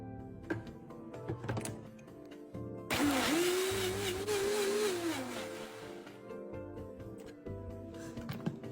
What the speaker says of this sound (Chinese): 全部加入搅拌器，加入100毫升清水，再将菠菜搅成糊状